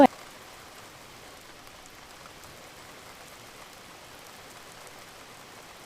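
Dense, constant downpour hisses evenly for the whole stretch after a sharp click at the start, with no voices.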